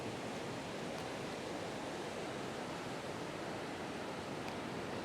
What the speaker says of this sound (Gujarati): આ રિવર છે, નદી. તમે જોઈ શકો છો કેટલું પાણી જાય છે.